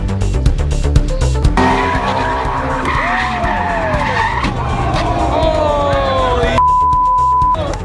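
Ford Mustang losing control at a Houston Coffee and Cars show, with loud skidding and squealing tires over a roaring engine, crowd noise around it, and a steady beep tone near the end.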